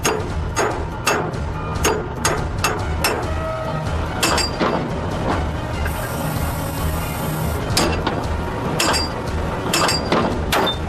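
Metal striking and ratcheting on a jammed drilling-line cutter aboard an oil rig, a run of loud, sharp clanks and grinding knocks repeating irregularly over about eleven seconds, with a short high whine in the middle.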